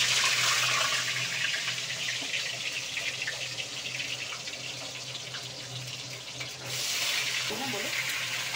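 Potatoes and tomatoes frying in oil in a home kitchen pan, a steady broadband hiss and sizzle running throughout, dipping slightly in the middle and swelling again near the end, with a low background hum.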